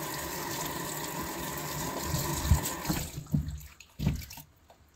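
Tap water runs steadily over freshly picked strawberries being rinsed, a continuous wash of sound that cuts off partway through, leaving a few close splashes and handling noises.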